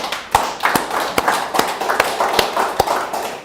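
A church congregation at a Thanksgiving Sunday worship service claps in unison, producing loud, steady, evenly spaced beats about two or three per second.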